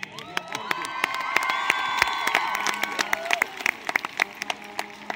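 A crowd at a high school homecoming event on the field cheers and claps, with sustained whoops and shouts, children's voices among them, and sharp scattered claps growing denser toward the end.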